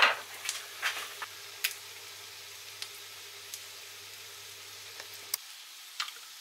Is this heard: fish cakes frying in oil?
yes